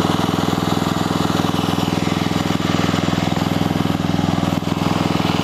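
A Jansen RD300 Pro mini dumper's small engine runs steadily close by, a loud, even, pulsing putter that holds throughout with no change in pace.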